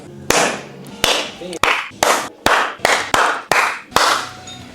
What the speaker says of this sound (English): Hell of a clap.